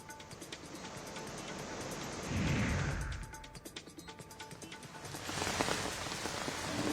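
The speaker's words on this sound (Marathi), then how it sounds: "ठाण्यात पावसाची रिपरिप सुरू आहे" Monsoon rain falling steadily on a surface in Thane, a soft continuous patter with a couple of heavier splashy bursts.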